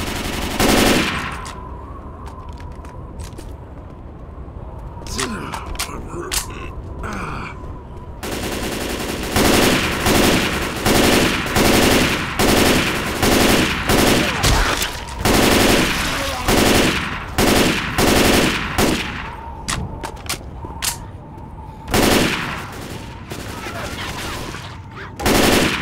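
Loud, rapid bursts of automatic gunfire in the video game Left 4 Dead 2, repeated volleys with short pauses between them and occasional voices in the mix.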